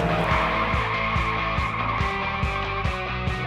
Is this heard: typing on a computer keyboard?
no